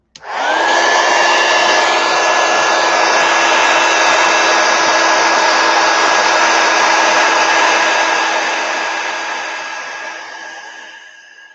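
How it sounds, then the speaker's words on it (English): A heat gun drying a watercolor painting roars as one loud, steady stream of hot air, with a whine on top, running unbroken for over ten seconds before easing off slightly at the end. "I'm going to hit this with a heat gun real quick"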